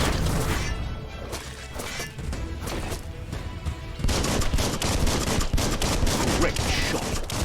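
Gunfire in Biomutant, a steady run of loud shots and impacts crashing through combat noise, with a louder burst kicking in partway and holding to the end.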